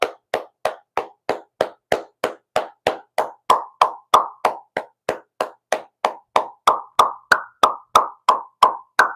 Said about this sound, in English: I want to give him another round of applause.